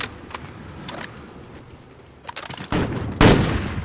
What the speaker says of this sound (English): Oh, I just shot at my teammate.